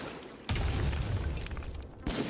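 Cannon fire in a pirate ship game: a heavy booming blast with a rumbling tail, followed by another burst at the end.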